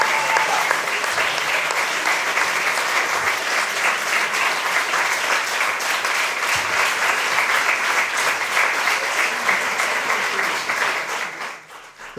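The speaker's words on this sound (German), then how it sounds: "Ich lasse den Applaus ausklingen," Sustained applause from an audience in a lecture hall, a dense steady wash of many hands clapping that holds loud for about ten seconds before tapering off at the end.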